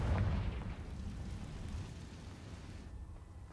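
A Confringo explosion spell in Hogwarts Legacy lands as a deep, heavy boom at the start, then fades into a low rumbling tail.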